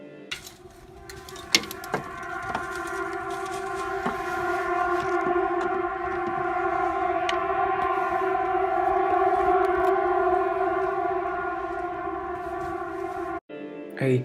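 An eerie, apocalyptic siren-like drone recorded over the skies of Norway in 2017: layered sustained tones that hold steady for over ten seconds, with faint clicks scattered through it.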